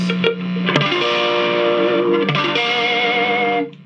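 Electric guitar played through a 1972 Gibson G70 amplifier with a Blues Driver pedal, ringing chords sustained and bright with a clangy edge, alone and close, ending in a decaying fade.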